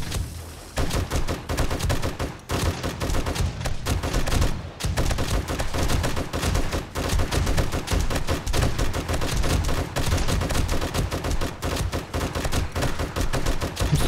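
Rapid, sustained automatic gunfire from the game 7 Days to Die during a horde night rattles on almost without pause, loud and dense, with only a couple of brief gaps between long bursts.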